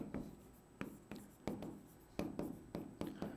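Handwriting during a law lecture, likely chalk or a pen on a board or paper, heard as a series of sharp, close taps and strokes in a loose irregular rhythm with no talking.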